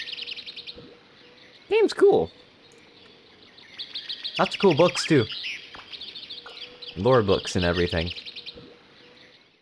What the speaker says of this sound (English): Let's move over here so we don't have to hear the birds chirp.